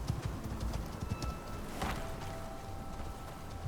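Horse hooves clip-clop in a video game, a steady quick rhythm of muffled thuds running through the whole stretch at moderate loudness, with no talk over them.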